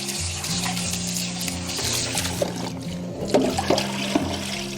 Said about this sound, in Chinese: 剪好以后，我们简单给它清洗一遍